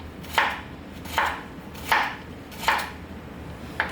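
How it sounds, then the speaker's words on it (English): A knife slices bitter melon thinly on a cutting board in a steady rhythm of five crisp cuts, close and moderately quiet, with no talking. "slice it thinly."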